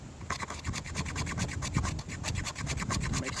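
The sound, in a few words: knife cutting shavings from fatwood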